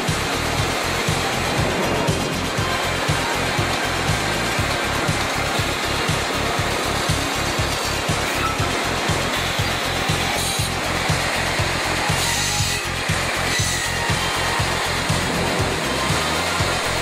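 An automatic timber milling machine processing a rafter and cutting tenons, a continuous loud mechanical whir with a fast regular pulsing rhythm throughout, no voices.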